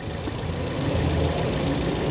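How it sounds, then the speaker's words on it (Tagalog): A Toyota Vios engine idles steadily with the air conditioning switched on, a continuous low mechanical hum and light knocking rumble heard close up, with no talk. "Sige, start mo yung aircon."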